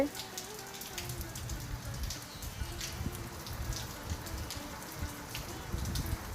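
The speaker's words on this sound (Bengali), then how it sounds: "প্রচণ্ড বৃষ্টি হচ্ছে" Heavy midday rain pours down during a thunderstorm, a steady drumming patter of drops on a hard surface nearby with occasional louder splashes, continuous and without talk.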